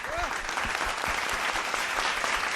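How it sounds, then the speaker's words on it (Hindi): Applause from the audience at a children's dance competition show, steady dense clapping throughout with some overlapping voices and crowd noise. "आशु मैम के लिए तालियां।"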